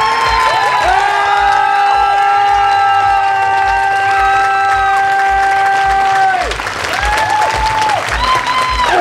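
A large crowd at an outdoor costume parade claps and cheers loudly and continuously, with whoops and shouts rising above the dense applause and a whistle-like tone sustained partway through.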